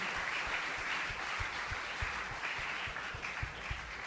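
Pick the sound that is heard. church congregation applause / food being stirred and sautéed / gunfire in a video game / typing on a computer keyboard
church congregation applause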